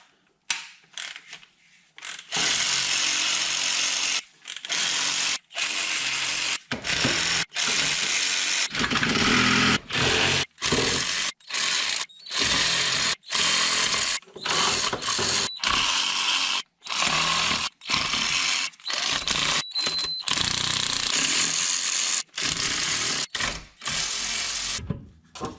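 Bolts come off a BMW engine oil pan as a power tool rattles in long loud bursts, close and harsh, split by brief pauses with no talking.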